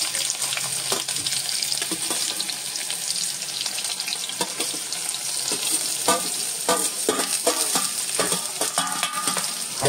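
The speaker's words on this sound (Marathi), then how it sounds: "आणि आता या तेलावरती हा कांदा आपण टाकतो." Chopped green onion dropped into hot oil, giving a steady crackling sizzle close by, with scattered pops and the scrape of stirring over the frying noise.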